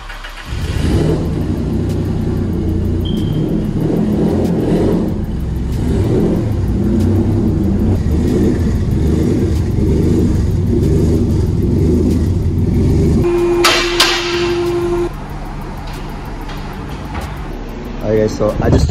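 A Nissan 350Z fitted with a turbo kit is driven in, its engine rumbling and revving steadily and loudly up close for most of the stretch before cutting off, followed by a brief tone and quieter clatter.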